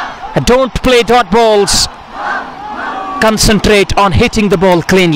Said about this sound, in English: he has got a chant from the crowd